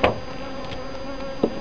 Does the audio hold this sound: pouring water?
no